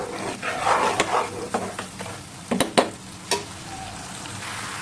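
Spices frying in a pan while mustard rohu fish is being cooked, a steady sizzle broken by several sharp stirring scrapes and clinks near the middle, close and fairly loud with no talking.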